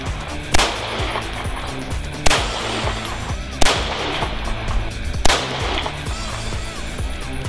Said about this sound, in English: taking the Beretta M9, firing 10 rounds, and trying to make the smallest possible group on this target